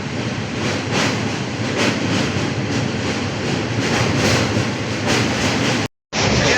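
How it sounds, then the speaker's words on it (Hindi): An HWH-DBG weekly express train rolls through a station, a continuous loud rumble of wheels and carriages with a clickety-clack rhythm close by, cutting briefly to silence near the end before resuming. "अभी अराइव कर चुकी है हमारी ट्रेन"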